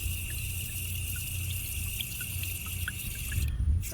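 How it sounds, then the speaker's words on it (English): Water steadily filling a Thrifty King Richie hog waterer, a continuous soft trickling with faint drips, close and fairly quiet, with no talking. "Looks like we're starting to get filled up here."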